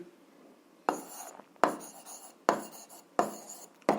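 Pen or chalk strokes writing out an algebra answer, four or five short scratchy bursts in a steady rhythm, close and clear with no talking.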